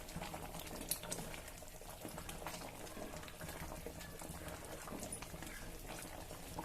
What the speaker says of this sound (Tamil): ஒரு 2 மினிட்ஸ் இது கொதிக்கட்டும்,